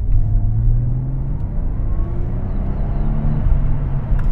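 A Jaguar XJ R-Sport with a 340 hp engine pulls away in a steady, deep rumbling acceleration, a continuous close engine drone and road roar without speech.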